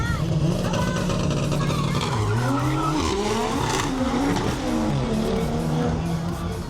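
Drag racing cars at the Connection Thailand car festival, engines revving and screaming through gear changes with tire squeal, loud and continuous, while people talk over the noise.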